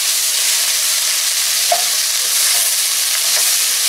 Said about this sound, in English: deglazing the pan is just scraping up all those brown bits that are collecting on the bottom of the pot